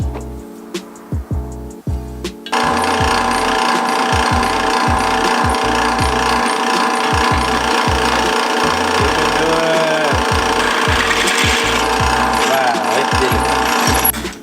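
A drill bit tightened in the drill chuck during sword making, heard up close as repeated sharp ratcheting clicks and clacks over a steady mechanical hum.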